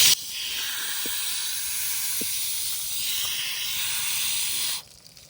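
A water hose rinses a horse's body with a steady, close hiss of spraying water for several seconds, with a few faint knocks beneath it, before the flow cuts off at the end.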